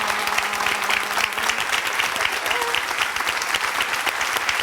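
A talk show studio audience breaks into loud, sustained applause that carries on evenly throughout, with no speech rising above it.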